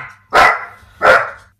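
A guard dog barks twice, two sharp loud close barks about a second apart with a brief pause between.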